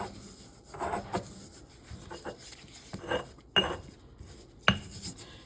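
Stone pestle grinding basil, garlic and other pesto ingredients in a mortar, a steady run of scraping, rubbing and gritty crunching strokes with a few sharp knocks of stone on stone, close and alone.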